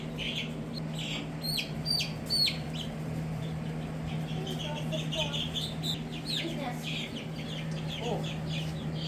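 Chickens, white cockerels and reddish-brown pullets, cluck and call while being carried over to a new pasture, a low steady clucking with scattered higher calls, mid-distance, under ongoing outdoor activity.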